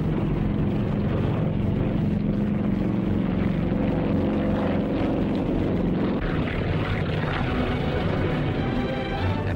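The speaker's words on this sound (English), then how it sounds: "At dusk, the first planes took off, each transport towing twin gliders." WWII transport planes taking off at dusk in Burma, each towing twin gliders, give a steady, dense propeller-engine drone that holds loud and unbroken throughout.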